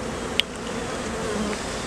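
Honey bees buzzing around a backyard hive during a honeycomb harvest, a steady diffuse hum with one brief sharp click near the start.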